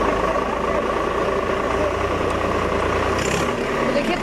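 A tractor engine idles close by during a farmers' support drive at the Parliament monsoon session, giving a loud, even rumble that runs without a break.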